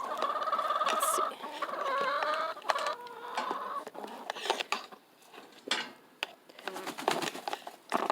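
Backyard chickens cluck and murmur close by, several birds overlapping in repeated short calls, with a longer drawn-out squawk early on and scattered sharp clucks throughout.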